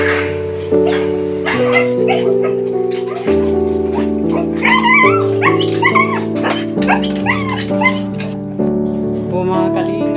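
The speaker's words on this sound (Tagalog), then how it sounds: "Diyan na po yung mga aso po namin." Pet dogs at home bark, yip and whimper in short bursts over a bed of steady tonal music with voices in the background.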